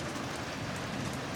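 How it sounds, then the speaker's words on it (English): Steady rain hisses evenly across a broad wash of noise, soft and constant, with only a faint low rumble that may be distant thunder. "A steady rain falls, soft thunder rolls gently in the distance."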